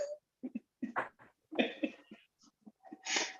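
A few short, sharp bursts of breath, a sneeze or cough, come close up amid scattered quiet noises and pauses.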